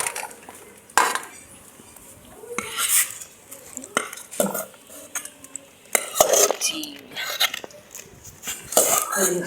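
A metal cooking pot is handled while poha is made, with repeated clanks, scrapes and sharp clinks of utensils in an irregular rhythm, close by, and people talking in between.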